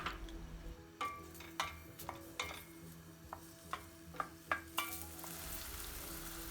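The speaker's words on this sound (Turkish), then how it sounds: "Üzerine 1 adet doğradığımız soğanı ilave ediyoruz ve soğanları iyice kavuruyoruz." Chopped onions sauté quietly in butter and oil in a pan, broken by repeated clicks and scrapes of a utensil stirring.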